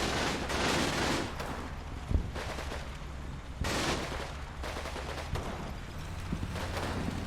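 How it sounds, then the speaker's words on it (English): A mortar barrage falls in Combat Mission: Battle for Normandy as a few heavy, distant thuds and booms land with gaps between them, over a constant low rumble of battle. "I want to at least see the mortar barrage"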